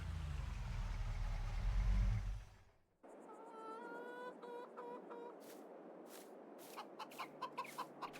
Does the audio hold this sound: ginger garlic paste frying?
no